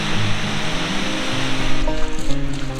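A huge waterfall in Iceland on a winter day roars as a steady, broad rush of crashing water, loud and close, with faint wind noise and no voices.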